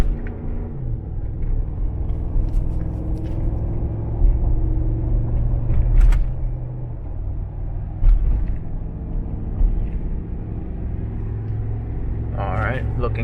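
A Ford 6.2 V8 gas pickup with 4.30 gears towing about 11,900 pounds on the freeway, a steady low engine and road rumble with occasional brief knocks, heard from inside the cab.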